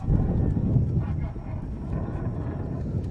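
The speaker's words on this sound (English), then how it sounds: "You can barely hear the referee as the wind gusts here today." Steady low rumbling wind buffets the microphone at an outdoor football game, gusting strongest at the start and then holding as a constant roar.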